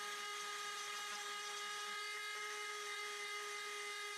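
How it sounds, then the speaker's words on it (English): A Dremel fitted with a steel ball bit power-carves and burnishes wood, giving a steady high-pitched whine that holds constant and close without a break and without talk. "I like to blend everything in with the steel ball."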